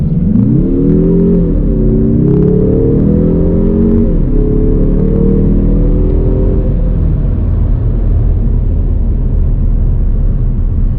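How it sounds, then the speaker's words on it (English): A Mazda 3 Turbo accelerating hard in sport mode, heard from inside the cabin: a loud, close engine drone climbing in pitch through a couple of gear shifts, then settling into steady road rumble. "And that's what the acceleration sounds like in sport mode."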